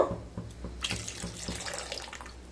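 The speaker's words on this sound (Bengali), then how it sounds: "খুব সামান্য জল দিয়ে দেব।" A small amount of water is poured into moong dal with cauliflower, a short splashing stream with light clinks of a utensil, close and fairly quiet.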